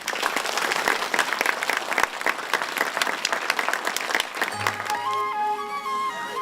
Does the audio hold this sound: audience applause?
yes